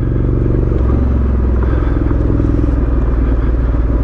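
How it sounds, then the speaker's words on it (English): A Honda CRF1100L Africa Twin adventure motorcycle rolls downhill off road in first gear on engine braking, its engine a loud, steady, close throbbing drone with clattering chassis and gravel noise throughout and no talking. "Africa Twin's got really, really good engine braking in manual mode."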